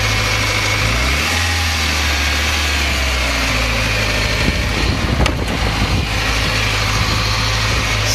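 A motorcycle engine idles steadily and loudly up close while burning leftover oil out through the exhaust, a constant low throb with a slight rise in revs partway through, no talking.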